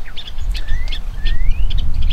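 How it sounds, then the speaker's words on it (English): Small birds chirping and tweeting nearby in an outdoor setting on Kauai, quick bright calls and short rising whistles over a low background rumble. "these little birds are really desperate for their 15 minutes of fame. They won't stop talking."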